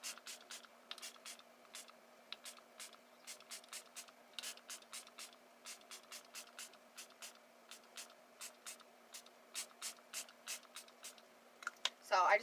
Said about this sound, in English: Now we're going to use some setting spray.